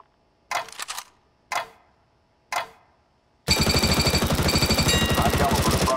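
Counter-Strike: Global Offensive weapons course: three sharp single gunshots a second apart, then a loud, rapid, sustained burst of automatic fire.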